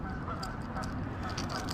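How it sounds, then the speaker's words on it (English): Geese honk on a lake, several short nasal calls scattered over steady outdoor background noise. "those geese are making me mad"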